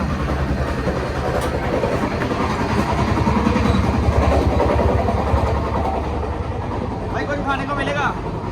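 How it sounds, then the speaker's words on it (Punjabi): A train arriving and rumbling steadily past at close range, wheels clattering over the tracks, with voices talking over the continuous noise. "ਉਹ ਆ ਗਈ ਟ੍ਰੇਨ"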